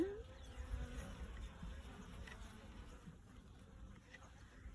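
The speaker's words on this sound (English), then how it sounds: "There's a lot of bees down there" Honeybees in an opened hive give off a soft, steady buzz with a faint hum underneath. It is quiet and continuous, with a brief clunk right at the start.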